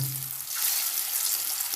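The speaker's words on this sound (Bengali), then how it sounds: "সর্ষের তেলটা গরম হয়ে গেছে আমি একে একে এগুলো দিয়ে দেবো ভাজার জন্য" Food hits hot mustard oil in a wok for a Bengali chana dal vegetarian recipe, setting off a brief, close, hissing sizzle that swells and holds steady.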